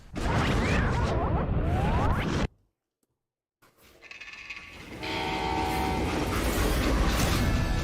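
Train in the video game Call of Juarez: Gunslinger, heard as a loud rolling rumble and rattle of rail cars that cuts out into brief silence, then returns with a sustained whistle-like horn tone over the steady rumble.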